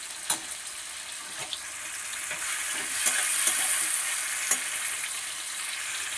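Goat fat frying in a pan gives a steady, bright sizzling hiss, with scattered sharp pops and crackles rising through it, close and fairly loud, with no voices.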